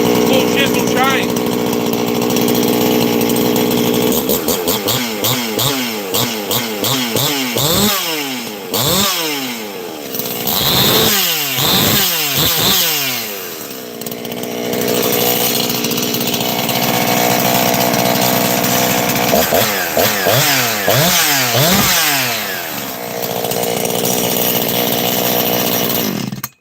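A Husqvarna chainsaw with an 18-inch bar and full chisel chain revs loudly and close, its pitch swooping up and down in repeated bursts between idle stretches, with a voice heard at times.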